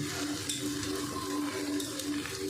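A spatula scrapes softly through egg bhujia curry in a pan over low sizzling, a steady quiet stirring with faint clinks against the pan.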